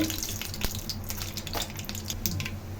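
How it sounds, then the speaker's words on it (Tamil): Fenugreek, mustard seeds and urad dal sizzle in hot oil with a steady frying hiss, dotted with small pops and crackles from the seeds. No one speaks. "வெந்தயம் போட்டோடனே கடுகு போட்டுக்கோங்க, கடுகு உளுத்த பருப்பு"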